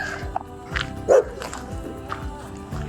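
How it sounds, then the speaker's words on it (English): A big dog barks several times in short, irregular bursts, with one louder bark mid-way, fairly close and over a low background hum. "That's a big dog."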